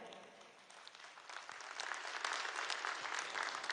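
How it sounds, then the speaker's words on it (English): Audience applause at an ASEAN gala dinner in Kuala Lumpur, quiet at first and swelling into sustained, fairly distant clapping from a large crowd. "Please give a big round of applause for everybody tonight."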